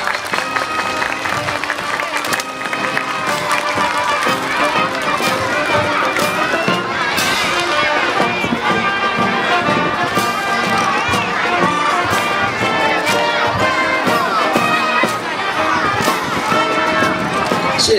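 A crowd at an elementary school anniversary celebration applauds and cheers throughout an air force band and honor guard rifle drill show, with loud continuous clapping layered over brass music and drum beats.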